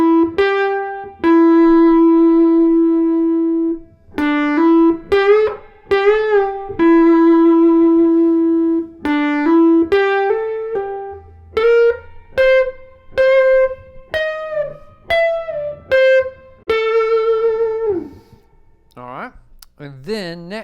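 An overdriven electric guitar plays a guitar solo from a song, held notes and quicker runs, with bends and vibrato, loud and upfront, ending in a wobbling note.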